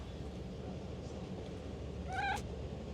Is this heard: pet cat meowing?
yes